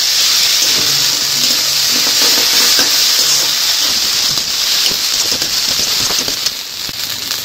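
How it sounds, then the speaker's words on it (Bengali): Ginger-garlic paste sizzles and spits loudly in hot oil in a pan over already-fried onions, giving a steady, bright crackle that fills the whole stretch. "এবারে আমি 2 চামচ চায়ের চামচের 2 চামচ পেস্ট আদা রসুন এর সাথে দিয়ে দিচ্ছি, দিয়ে তেলে ভেজে নিচ্ছি"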